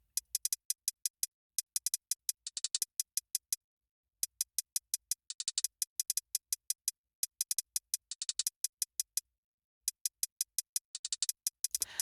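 A regular two-step hi-hat pattern from a hip-hop type beat ticks in crisp, evenly spaced bursts of quick strokes, broken by short pauses, played alone with no voices.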